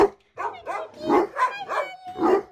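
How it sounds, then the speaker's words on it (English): A dog barks repeatedly indoors in New Zealand, a close, rapid run of about six sharp barks with short gaps between them. "Stop barking at me!"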